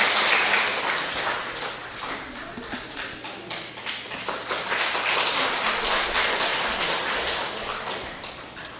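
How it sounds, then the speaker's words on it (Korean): A church congregation claps in sustained applause, a dense patter of many hands filling the room at moderate volume for several seconds. "우리 박수로 좀 환영해 주십시오."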